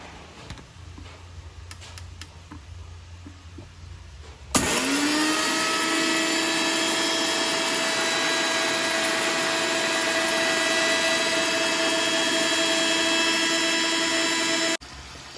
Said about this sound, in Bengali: শুকনা লঙ্কা সেটাকে আমি এখন একটু গ্রিন করে নিচ্ছি